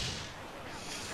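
Ship cannon fire in Assassin's Creed IV Black Flag, a dense, rumbling broadside blast that fills the whole moment at steady loudness, with no pause or break.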